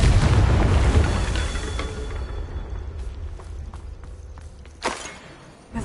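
A Confringo blasting spell in the video game Hogwarts Legacy lands as a deep, rumbling explosion that fades slowly, followed by scattered footsteps and a short sharp crack.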